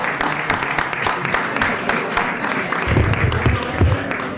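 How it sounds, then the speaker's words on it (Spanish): Audience applause after a call for a big round of clapping at a Spanish-language event, a dense steady wash of many hands lasting throughout, with a slightly louder, fuller stretch toward the end. "Un fuerte aplauso."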